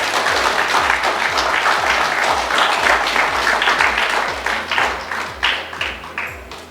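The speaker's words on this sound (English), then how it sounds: "let's give them a huge round of applause." A crowd at a primary school graduation applauds steadily, loud and sustained at first, then thinning into scattered claps as it fades out.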